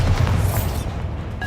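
A Bombarda blast spell from the game Hogwarts Legacy goes off as a single loud, deep boom up close, then rumbles and fades away, with a brief higher tone near the end.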